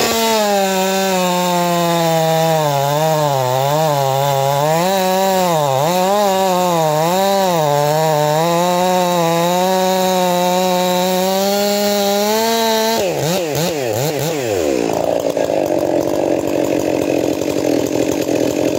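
A chainsaw with a square-ground chain revs loudly and cuts into maple wood, its engine pitch rising and falling under load before dropping away near the end of the cut.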